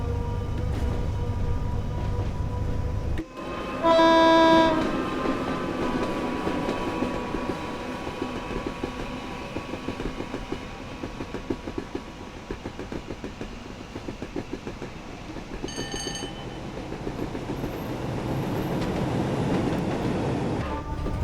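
A British Rail Class 87 electric locomotive hauls Mark 3 coaches with a noisy Mark 1 brake van, rolling steadily past at close range with a continuous loud rumble and a brief horn-like tone early on.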